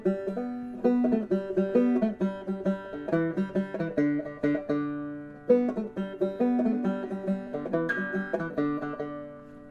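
Faster clawhammer banjo take on the All For Me Grog solo, an Irish pub song, with extra notes packed in, a dense bouncing stream of bright plucks and drone strings played solo and close.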